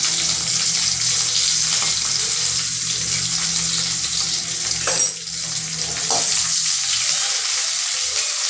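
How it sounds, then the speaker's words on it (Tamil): Garlic, onion and curry leaves tempering in hot oil with mustard seeds, a steady loud sizzle and crackle throughout, briefly interrupted by stirring clinks. "பூண்டு வெங்காயம் தாளிப்பு"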